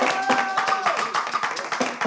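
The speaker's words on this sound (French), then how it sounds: "On applaudit pour ça d'abord." A village audience claps at a homecoming gathering, a quick burst of hand claps rising over a murmur of voices, with a tonal hum lingering early on.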